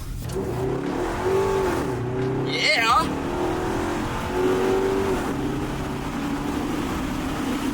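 A car engine revs up and holds, rising in pitch twice, loud and close, while a voice cheers briefly in the middle.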